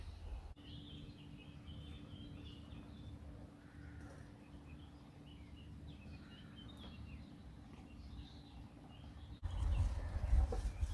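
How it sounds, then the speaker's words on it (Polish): Birds chirp faintly in a garden on a morning walk, with scattered high calls over a steady low rumble of outdoor background, ending with a louder rustle. "słychać ciągle ten śpiew ptaków"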